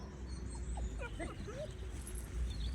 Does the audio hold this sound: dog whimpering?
yes